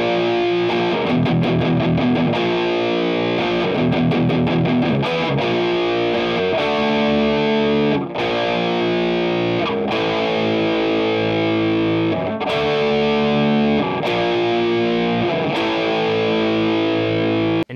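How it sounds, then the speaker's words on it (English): A distorted electric guitar plays a song's intro riff, built on blues-scale intervals and a dissonant flat-fifth tritone. The riff is loud and continuous, with chugging repeated notes and short breaks, and no voice over it. "So this entire intro riff is just using intervals from that blues scale, relying heavily on this flat fifth for that really dissonant tritone sound."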